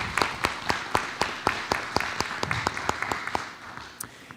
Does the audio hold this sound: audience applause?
yes